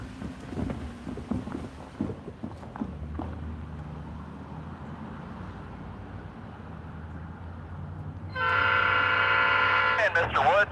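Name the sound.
dueling steam locomotive whistles, locomotive 4501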